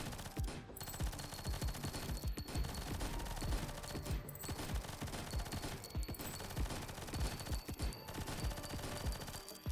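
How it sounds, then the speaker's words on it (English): Relentless rapid-fire gunshots from the video game Nimrods Guncraft Survivor pour out in a dense, continuous stream, loud and unbroken, with a few brief dips in the barrage. "Endless bullet spam, I think."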